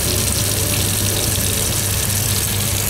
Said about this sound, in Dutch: Ik hou meestal mijn hand eronder, want af en toe wilde wel een erwt gewoon meegaan met het water.